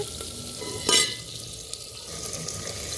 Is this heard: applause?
no